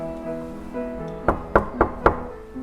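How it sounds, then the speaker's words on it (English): Four firm, evenly spaced knocks on a house door ring out close and loud over a sustained musical hum in the background. "Knock, knock."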